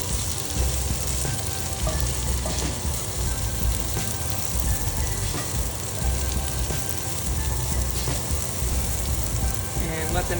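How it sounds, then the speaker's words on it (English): Raisins sizzle steadily in hot oil in a pan, a dense continuous crackle with occasional sharper pops and stirring clicks, loud and close throughout. "I'm going to add to that same pan the raisins. Rehydrate them in the oil a little bit."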